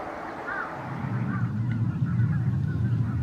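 Migratory waterbirds on a winter lake, geese honking in repeated calls over a constant low rumble of wind or distant water, the flock sounding moderately close.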